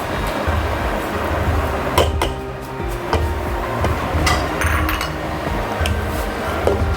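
A spoon clinks and scrapes steadily against a bowl while butter is mixed in for a marble tea cake batter, a close, continuous stirring with sharp metallic taps scattered throughout.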